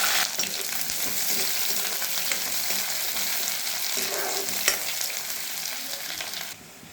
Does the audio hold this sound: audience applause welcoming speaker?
no